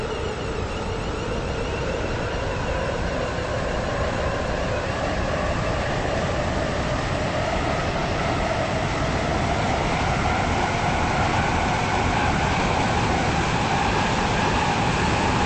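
A passenger train rolls along in the Stepford railway video game, a steady, continuous rumble with a rising whine as it gathers speed, heard alone with no talking.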